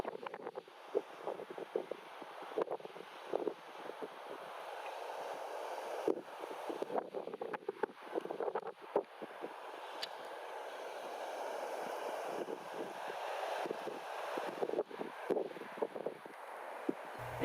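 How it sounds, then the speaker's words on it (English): Gusty wind buffets an outdoor microphone on a blustery day in Nebraska, producing a continuous low rumble with repeated louder bursts and thumps throughout, with no voices. "I apologize for the wind right here, but there's just nothing to do."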